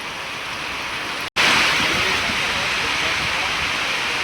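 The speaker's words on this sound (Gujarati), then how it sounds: "જોરદાર વરસાદ ચાલુ હે" A heavy monsoon downpour in Siddhpur, Gujarat, roars as a dense, steady hiss of rain. It is loud and continuous apart from one momentary dropout, and no voices can be heard.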